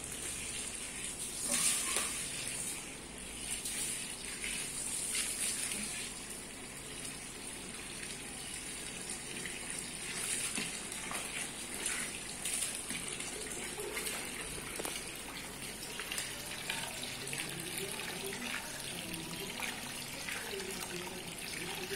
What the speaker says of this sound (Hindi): इसको खुले पानी से हम इस तरह से धो लेते हैं।